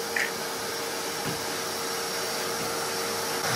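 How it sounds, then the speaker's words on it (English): A vacuum cleaner hoovers around a pug playpen with a steady, loud motor drone that runs unbroken throughout, with no talking. "Don, I've never seen you hoover from inside a playpen"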